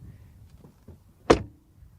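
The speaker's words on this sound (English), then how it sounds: "But the door shut sound is just as solid and resounding." A Mercedes-Benz A-Class car door swings shut with a single solid, resounding thud, close and loud against a quiet background.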